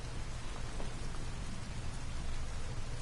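Steady rain in the video game Detroit: Become Human, a dense continuous hiss of drops on surfaces with a low rumbling undertone, constant and close with no voices.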